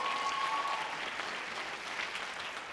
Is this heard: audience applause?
yes